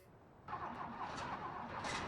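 A tractor engine in the Farming Simulator 19 video game cranks and catches after the machine lay on its side, turning over abruptly and settling into a steady, moderately quiet idle with no voices.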